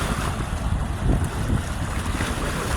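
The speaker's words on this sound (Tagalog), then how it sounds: "Ang lakas ng hampas ng alon eh, nakakatakot naman." Heavy surf roars steadily nearby, waves churning and crashing under gusts of wind, with no one speaking.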